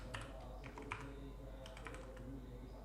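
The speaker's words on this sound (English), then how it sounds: "I'll type BigQuery and I'll hit enter" Keys clatter on a computer keyboard in a few quick bursts of taps, fairly close over a low steady hum, with no voices.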